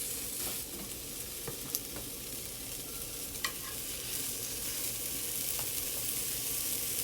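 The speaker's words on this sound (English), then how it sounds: "I'm going to go ahead and start putting my meatballs in the pan because my skillet is hot" Steady, dense sizzling of meatballs frying in a hot skillet, with a few small clicks and pops scattered throughout; no voices.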